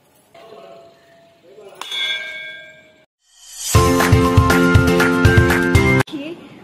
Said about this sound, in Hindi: मंदिर के चारों तरफ ही घंटियाँ लगी हुई हैं